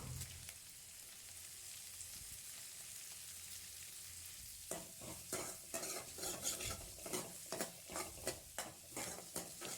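Onions and curry leaves sizzling and frying in a pan for aubergine sambar, with a steady hiss that turns into rhythmic scraping and stirring about halfway through.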